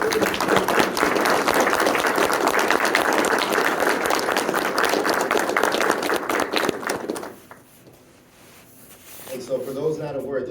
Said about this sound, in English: I ask you to give the soldiers that you see standing before you a round of applause